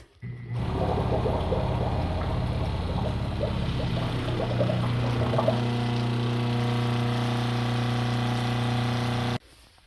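A liquid pump runs steadily, pushing water through cider lines with a constant motorized hum and gurgling flow that starts abruptly and cuts off cleanly at the end.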